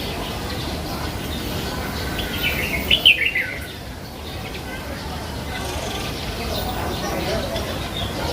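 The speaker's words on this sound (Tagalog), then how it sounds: "Dito sa baba din yung mga ibon." A quick burst of chirps rises from birds in a pagoda aviary in Yuen Long Park, Hong Kong, standing out briefly against a steady low hum of ambient noise.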